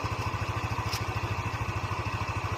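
A motorcycle engine idles close by with a steady, fast putter of even pulses and a faint mechanical clatter, with no talking.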